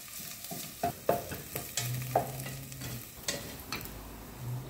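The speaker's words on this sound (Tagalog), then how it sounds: "Haluin ng konti para lumambot. Ayan, lagay natin yung bawang." Ginger and garlic sizzle in hot cooking oil in a pan while a utensil stirs them, producing several distinct scraping stir strokes over the steady frying hiss, close and fairly loud.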